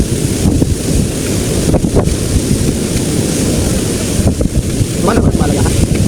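Strong wind buffets the microphone in loud roaring gusts, with the wash of waves and open water underneath.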